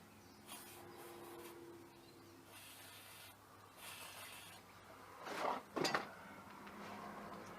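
Degreaser is sprayed onto rusty car engine parts in a few short, quiet hissing bursts, followed by a couple of sharp metallic clinks.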